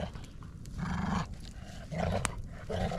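Dogs growl and pant at night at a winter campsite, low rumbling growls rising and falling in several bursts, fairly faint and with no speech.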